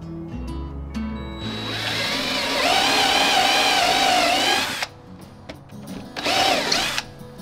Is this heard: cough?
no